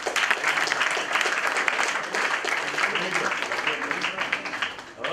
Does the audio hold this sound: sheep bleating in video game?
no